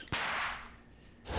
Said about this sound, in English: My pretty little firecrackers only make a little pop anyway